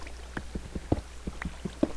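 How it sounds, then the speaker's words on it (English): Drowning spider mob in Minecraft underwater, heard as a string of short bubbly watery pops and gurgles at an uneven rhythm, fairly close and alone with no talking. "This is the sound of a drowning spider."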